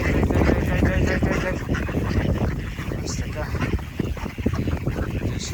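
Ducks, geese and other poultry quack and honk amid a busy outdoor farmyard scene, with people talking over the birds throughout.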